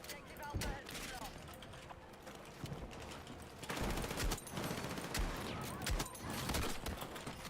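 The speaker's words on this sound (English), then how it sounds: "Dude, these shotguns are crazy." Shotgun blasts in the video game Battlefield 6, a series of sharp, heavy booms spaced irregularly amid continuous battlefield noise and other gunfire, fairly close and prominent.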